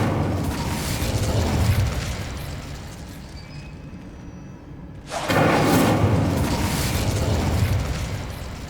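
Incendio fire spell bursting in Hogwarts Legacy on a PS5 Pro: a loud, roaring blast of flame with a booming rumble, dropping away briefly before a second sudden surge of fiery noise that keeps going to the end.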